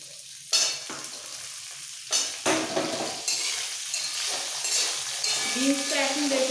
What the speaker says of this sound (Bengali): তেলের মধ্যে আলুটাকে একটু নাড়াচাড়া করে দিয়ে দেবো